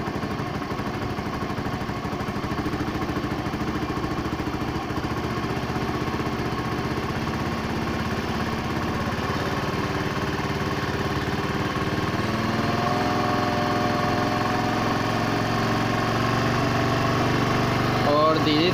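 A Bajaj motorcycle engine with its carburettor being adjusted runs steadily at around 4000 RPM, giving a close, even, buzzing drone that holds for the whole stretch and swells slightly toward the end.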